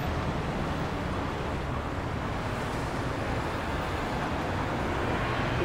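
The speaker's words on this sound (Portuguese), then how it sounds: "Carro entrando." A car pulling in beside a rooftop terrace, heard as a continuous, fairly loud engine-and-road rumble that holds steady throughout with no voices.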